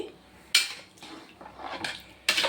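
A spoon stirring chili powder into sambar with mango pieces in a pot, heard as a few quiet scraping clinks of metal against the pot, separated by short pauses, with no talking.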